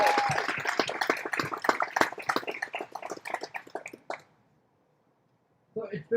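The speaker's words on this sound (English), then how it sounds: "Let's give them another round of applause." Applause from an audience at a 2020 graduation ceremony, a dense burst of clapping for about four seconds that stops abruptly, followed by quiet and then a voice starting to speak.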